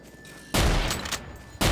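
Shotgun blasts in Garry's Mod, two heavy booming shots a second apart, close and loud, the first ringing out into a fading tail.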